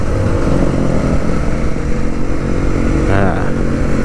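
A Royal Enfield Super Meteor 650 rides along with a steady, loud engine drone mixed with road and wind rush, while a voice talks over it.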